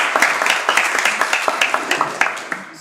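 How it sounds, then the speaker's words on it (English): An audience at a general assembly of the political organization Volt Belgium applauds new members, a steady round of indoor clapping that stays fairly loud and then tapers slightly. "So a big round of applause for all the new members."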